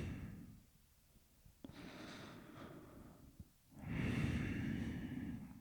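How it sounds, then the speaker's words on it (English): Heavy, close breathing right against a microphone on a podcast set, several loud airy inhales and exhales with a nasal snort-like edge, the last breath swelling louder and longer. "I feel that breathing."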